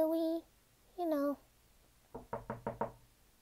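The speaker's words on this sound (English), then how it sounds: "Someone's at the door." Four quick, evenly spaced knocks on a door, close and firm, come right after two short vocal sounds.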